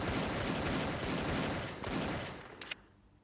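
Rapid bursts of gunfire from the Dually Stiegel, a high-fire-rate gun in a video game, crackle in quick rhythmic volleys, ending with a couple of sharp metallic clicks.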